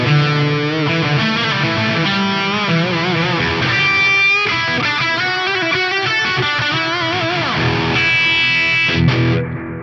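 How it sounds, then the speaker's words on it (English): Overdriven Les Paul electric guitar through an FM3 amp modeler with stereo BBD dual delay plays a bright, sustained melodic phrase with bends and echoing repeats, loud and close, ending with a quick fade. "I've got my Les Paul plugged into the FM3."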